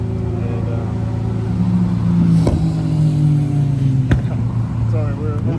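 Cars pass along a busy main road nearby. A steady engine drone is broken by a couple of sharp passing swells and rumbles.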